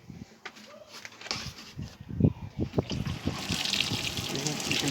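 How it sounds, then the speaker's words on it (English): Water is poured over a tub of compost planted with seed potatoes. It sounds like uneven splashes and trickles that build into a steadier, louder gush toward the end, close by. "So I guess all that's left to do then is to water the tub."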